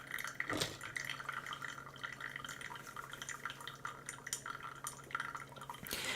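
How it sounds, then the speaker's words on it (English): A thin stream of water is poured steadily over pour-over coffee grounds, a continuous trickling splash with faint dripping that runs for about six seconds. "I'm gonna just aggressively pour until 170 grams."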